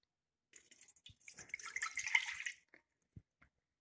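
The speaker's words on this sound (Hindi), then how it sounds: "यहाँ पर सबसे पहले कढ़ाई में हमने 1 कप पानी ऐड करना है" Water poured into a kadhai (wok) for jaggery rice, a soft splashing pour lasting about two seconds, close and fairly faint, followed by a few small clinks.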